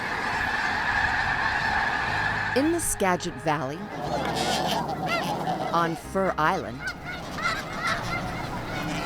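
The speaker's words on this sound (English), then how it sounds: "in the Skagit Valley, the snow geese have taken over" A large flock of snow geese feeding on fallow farm fields and wetlands in the Skagit Valley gives loud, overlapping nasal honks in bursts, with a narrator speaking over the calls.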